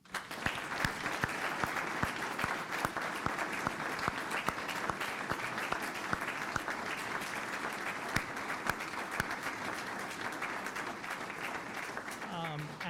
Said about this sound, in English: great hand applause